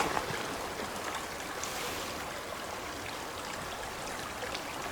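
A river stream flows through a forest in a constant, even rush of water, moderately close and uninterrupted, with no voices.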